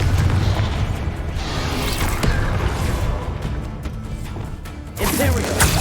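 Explosive Confringo spell cast in Hogwarts Legacy, a loud sustained burst of booming, crashing game effects with rumbling low end, swelling again near the end.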